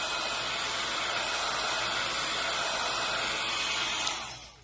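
A hair dryer blows steadily to dry a wet watercolor sunset painting, a loud continuous whooshing hiss that holds for about four seconds and then cuts off as the motor winds down.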